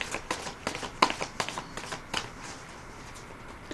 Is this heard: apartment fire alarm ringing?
no